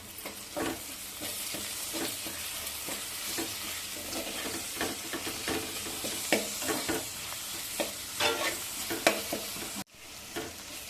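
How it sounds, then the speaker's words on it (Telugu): Ginger garlic paste sizzles and fries in a pan while it is stirred over and over, with sharp scraping strokes across a steady hiss, and the sound cuts off near the end. "ఇప్పుడు మనం అల్లం వెల్లుల్లి పేస్ట్ వేసుకుని వేపేద్దామండి"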